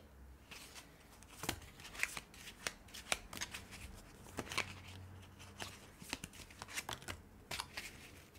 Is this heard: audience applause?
no